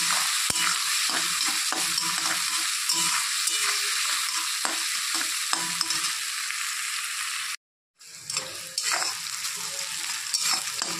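Onions, salted, sizzle loudly in a hot pan with occasional stirring scrapes. The sound drops out for a moment, then the frying resumes.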